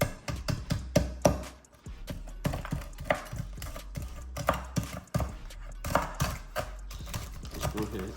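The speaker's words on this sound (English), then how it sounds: "Let's go ahead and chop this up. I want to get all that bacon goodness into these mashed potatoes." A knife chops through real bacon on a cutting board for loaded mashed potatoes, a quick run of close, sharp taps in uneven bursts with brief pauses, over a low steady background hum.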